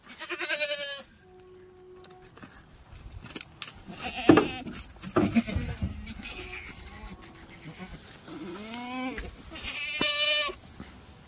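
Kathiawadi goats being unloaded from a newly arrived vehicle give repeated loud, wavering bleats near the start, middle and end, with handling noise and clatter between them and no talk.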